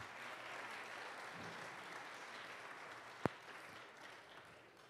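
Steady applause from a congregation at a church convention, a broad wash of clapping that holds throughout with one sharp click partway through.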